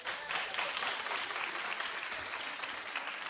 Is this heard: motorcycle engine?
no